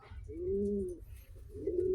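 Close, loud cooing from a large pigeon, one long mellow coo followed by a second rising coo, with a little background noise.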